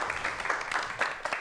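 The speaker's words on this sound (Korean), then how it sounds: "여러분 큰 박수로 환영해 주시기 바랍니다" A studio audience applauds to welcome two guests on a Korean television talk show, producing a moderate, continuous patter of clapping with slight swells.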